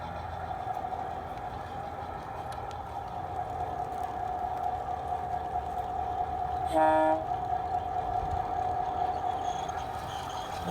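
A G scale model train runs outdoors on a garden layout, a steady hum of motor and track noise with a short horn toot midway, fairly close.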